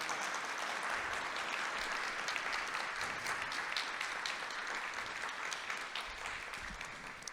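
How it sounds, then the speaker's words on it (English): A museum audience at LACMA claps steadily to welcome members of the Arhuaco community, dense even applause that runs throughout and eases off slightly near the end. "If we can give them a round of applause and a warm welcome to LACMA."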